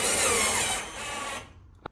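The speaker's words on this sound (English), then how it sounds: "when you're putting your plasterboard screw into place, you want to put your body weight on the back of the drill" A power drill drives a plasterboard screw into drywall: a loud, steady whirring whine for about a second and a half that cuts off, followed by a single sharp click.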